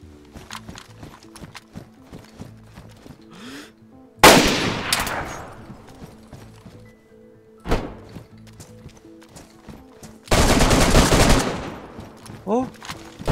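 Gunfire in the survival video game DayZ: two loud bursts of shots a few seconds apart, with scattered clicks and thuds between them, and voices murmuring in the background.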